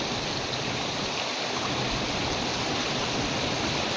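Kunduvalo waterfall at the source of the Valva river pours steadily, a dense, unbroken roar of rushing water close by with no talking over it.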